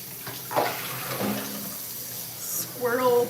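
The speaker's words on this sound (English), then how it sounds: "I think I can rinse this off now" Tap water runs as something is rinsed off at a kitchen sink while vegan pumpkin queso soup is being made, a steady splashing wash with a person talking over parts of it.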